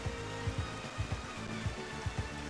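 Steady rainfall in the Xenoblade Chronicles game world, a continuous soft wash of falling drops with low, irregular thumps beneath it, moderately quiet and with no voices.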